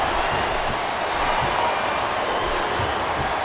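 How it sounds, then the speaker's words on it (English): Arena crowd in the WWE SmackDown vs Raw 2008 wrestling video game, a steady, dense roar of murmuring and cheering spectators holding at an even loudness throughout. "Sounds like this crowd's got something on their minds, King."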